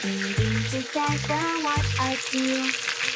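Chicken inasal sizzles in a kawali, a hissing fry sound running under a prominent melodic voice or music that carries clear stepping tones through the short stretch.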